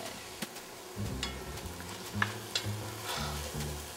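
Mushrooms sautéing in a pan, with a steady low sizzle and several bursts of stirring and scraping, close by and fairly quiet, with no talk.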